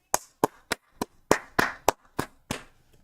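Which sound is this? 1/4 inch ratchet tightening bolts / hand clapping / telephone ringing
hand clapping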